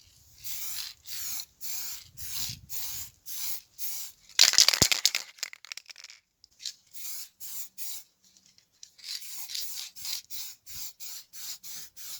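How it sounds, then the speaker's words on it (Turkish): Short, evenly spaced bursts of spray primer hiss close up onto a fuel tank cap, with one longer continuous spray in the middle before the rhythmic bursts resume. "Görmüş olduğunuz benzin depo kapağına astar atacağız."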